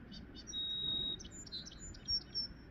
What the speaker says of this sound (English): there is a song sparrow.